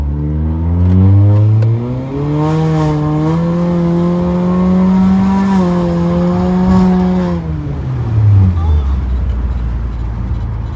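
A KTuner-modified Honda Accord Sport 1.5T accelerates hard onto a highway, the engine climbing in pitch through a long pull, easing off, then surging again, loud and close from inside the cabin.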